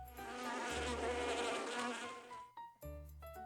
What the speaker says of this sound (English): The bees continue to circle around me,